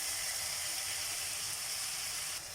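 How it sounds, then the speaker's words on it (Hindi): Green chillies frying in hot oil for a karela and onion sabzi give a steady, close, bright sizzle that holds evenly throughout and dips slightly at the end. "बस इसको अच्छे से ज़रा भूनना है, फ्राई करना है"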